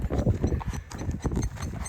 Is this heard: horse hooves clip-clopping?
yes